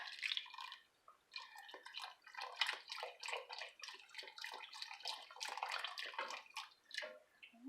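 Beef broth poured into a pot of meat for Puerto Rican steak and beans, a faint, steady trickling and splashing stream with small bubbling drips, close and alone.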